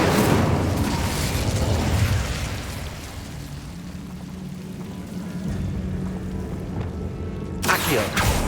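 The Incendio fire spell in Hogwarts Legacy bursts out with a loud whooshing roar, then a sustained fiery rumble that fades before a sharp burst near the end.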